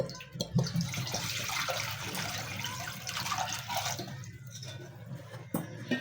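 Water poured from a clay matka pot for making kahwa runs as a steady, continuous splashing stream, close and fairly soft, with no one talking over it.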